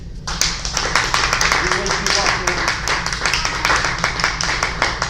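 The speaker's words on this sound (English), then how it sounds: "And give her a round of applause" A round of applause for a student at a martial-arts black-belt class, many hands clapping steadily and close for several seconds, with voices murmuring underneath.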